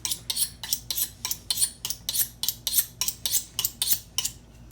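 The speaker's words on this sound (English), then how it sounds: "I like to use a little paring knife." A small paring knife works on pork chops, making a quick, regular series of about sixteen sharp cutting clicks against a hard surface, close and crisp, with no voice.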